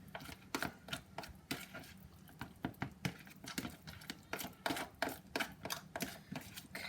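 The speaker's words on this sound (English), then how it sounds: "So now I'm going to put this in with my coconut oil. There we are. I'll give it a little mix." Melted wax being mixed into coconut oil, a quiet series of irregular tapping clicks and scrapes as a utensil knocks against the container, close and faint, no voices.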